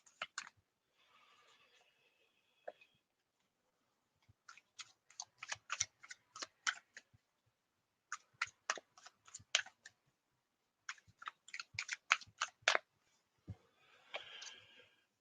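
Tarot cards slapped down one after another onto a table in quick bursts of crisp snaps, with short pauses and a soft shuffle between runs, close and otherwise quiet.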